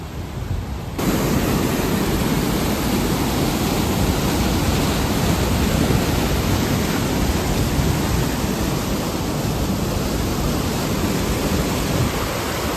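Rushing water at Ethipothala waterfall forms a loud, steady, broadband roar that stays constant throughout with no talk.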